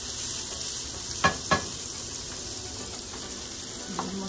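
Sausage and onion frying in a pan in a whole stick of butter give a steady, close sizzle, with two sharp spatula or pan knocks early on and a softer one near the end.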